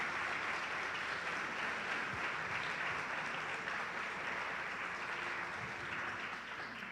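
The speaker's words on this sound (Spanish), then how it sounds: "Dele un aplauso fuerte al Señor por eso." A church congregation claps loudly and continuously during a sermon, a dense, sustained wash of applause lasting several seconds and tapering only slightly at the end.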